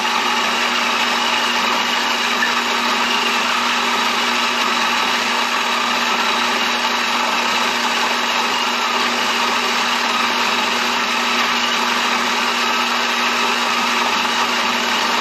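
A GEVI 4-in-1 smart pour-over coffee machine grinds coffee beans with a steady, loud, high-pitched motor whir that continues unbroken from start to finish.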